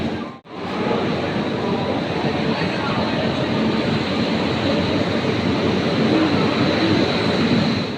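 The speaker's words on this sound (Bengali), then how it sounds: "তো হাওড়া থেকে আমাদের ট্রেন ছেড়েও দিল, বাড়ির পথে রওনা দিলাম।" A local train pulls out of Howrah station with a steady, loud rumble of wheels and carriage noise that stays constant throughout, with no clear voices on top.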